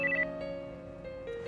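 A telephone rings for an incoming call with a soft electronic ringing tone made of repeating sustained notes. It is faint and steady, with no one speaking.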